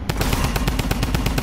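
Rapid automatic gunfire from a Fortnite match rattles in a fast, even burst of loud close shots with no pauses.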